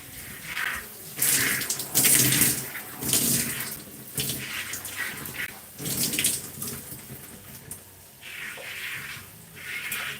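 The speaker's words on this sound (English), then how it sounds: "Rinsing." Running water rinsing conditioner out of hair, a broad splashing wash that swells and fades in uneven surges as the stream shifts, close and fairly loud with no voices.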